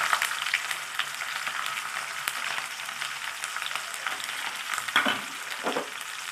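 Ten small shallots frying in a pan of oil for a dried kingfish curry, giving a steady, dense crackling sizzle with occasional stirring scrapes and a couple of louder bursts near the end; no one speaks.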